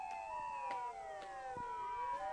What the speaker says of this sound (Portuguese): tô escutando um barulho de ambulância, essa rua estreitinha